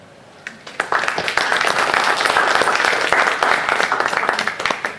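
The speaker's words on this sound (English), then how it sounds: "let's give another round of applause to all of our presenters" Audience applause for student presenters at a university research presentation competition, a sustained round of clapping from many hands that swells quickly and holds steady before tapering off.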